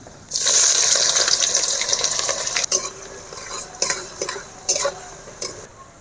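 Sugar, a bay leaf and chopped onion drop into hot oil in a kadai, setting off a sudden loud, close sizzle that hisses on steadily, broken by a few sharp clinks of a spatula stirring.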